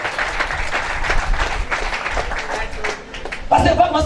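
A church congregation at a prophetic worship service applauding and cheering, a dense wash of clapping and crowd voices that swells louder near the end, with people talking and calling out throughout.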